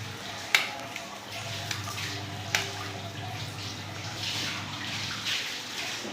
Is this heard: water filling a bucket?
yes